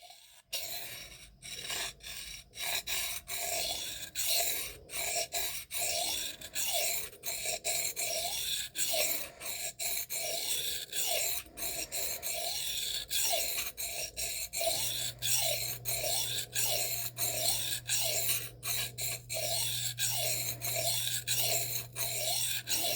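A knife blade of M398, Maxamet or MagnaCut steel strokes lightly over diamond sharpening stones in a steady run of short rasping passes, each swipe close and crisp, with a faint low hum underneath in the later part.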